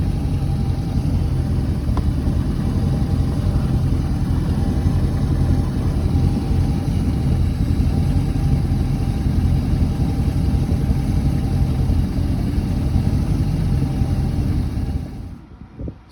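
A boat engine fitted with a Holley Sniper marine EFI system idles steadily at close range, a continuous low rumble that holds even for about fifteen seconds before cutting off abruptly at the end.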